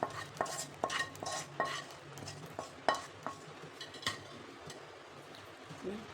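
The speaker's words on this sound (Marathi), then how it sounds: "छान मिक्स करायचे." A spoon stirs roasted khoa into sweetened milk for basundi, giving repeated clinks and scrapes against the pot in an uneven rhythm, close and moderately loud, with no talking.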